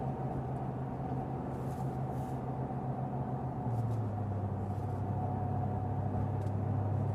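Steady low road rumble and engine drone inside the cabin of a RAM truck cruising along after a steering repair, a constant close hum with a slight shift in pitch midway.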